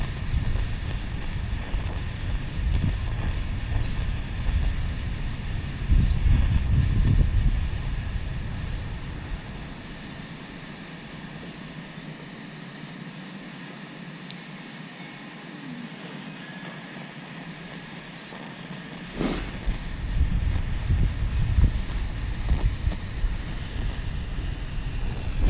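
Wind blows outdoors beside a Ford F-150, buffeting the microphone in low rumbling gusts that ease off midway and then pick up again, with no voices.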